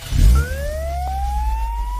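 A police car siren rises in a steady sweeping wail as the vehicle pulls away, starting after a short thump and holding at moderate loudness alone to the end.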